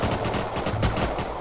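Rapid gunfire in the survival game Rust during a PvP raid, a dense continuous burst of shots running loud through the whole moment with no talk over it.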